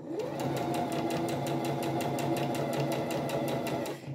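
Sewing machine stitching piping along a curved seam, running steadily at an even pace for about four seconds with a rapid needle pulse, near and clear with no voice over it.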